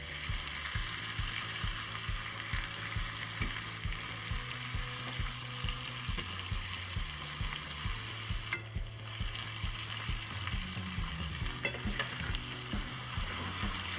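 Shallots fry and brown in a pan with a steady, close sizzle throughout and intermittent stirring scrapes, with no talking.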